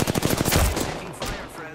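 A rapid burst of automatic gunfire in a video game, loud evenly spaced shots over about a second, then a fading rumble and tail.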